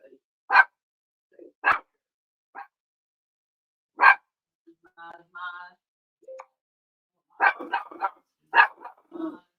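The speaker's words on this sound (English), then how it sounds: "Don't bark at Mozzie the rapper" A dog barks in loud single sharp barks spaced a second or two apart, with a few quieter yips and short bursts of speech-like sounds between them, ending in a quick flurry of barks.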